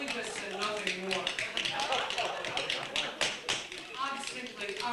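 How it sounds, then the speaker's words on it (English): Tap dancing on a floor: a quick, steady stream of sharp taps and scuffs from tap shoes, heard close under ongoing talk or recitation. "suddenly there came a tapping, as of someone gently rapping on the floor next door"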